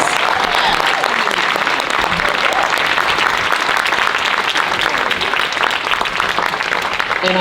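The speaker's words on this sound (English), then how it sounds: "Please, let's give these phenomenal women a big round of applause." Dense, sustained audience applause from a large crowd at a podcast event, steady and loud throughout with no pauses.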